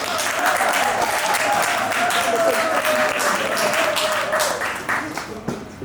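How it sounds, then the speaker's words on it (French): Audience applause fills the room at an event on sickle cell disease, a steady wash of many clapping hands that holds throughout and thins slightly near the end, with faint voices and a sustained tone running beneath. "Est-ce qu'on peut les applaudir?"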